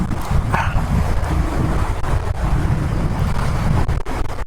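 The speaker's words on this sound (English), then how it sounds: "being in open area, this is giving a lot of wind gush on the face" Steady, loud wind buffeting a helmet or camera microphone on an open-road motorcycle ride, a continuous low roar throughout with no speech.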